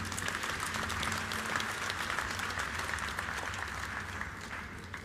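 Audience applause of many hand claps fills a large ceremony hall at Makerere University's centenary celebration, a dense continuous roar of clapping held at steady loudness throughout.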